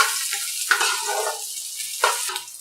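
Sliced bitter gourd sizzles steadily in hot oil for a Bengali shukto, with a bright continuous hiss broken by a few louder bursts as the pieces are stirred or turned in the pan.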